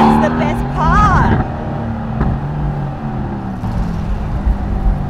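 Twin-turbo engine and exhaust of a Mercedes-Benz C63 AMG S, a low rumbling drone under steady road noise, with a person speaking briefly at the start before the engine sound carries on alone.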